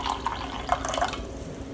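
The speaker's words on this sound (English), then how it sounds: "Then the next step is to add hot water." Hot water pours into a measuring cup, a short splashing, trickling stream with a few faint clinks of the cup, close and clear with no voices.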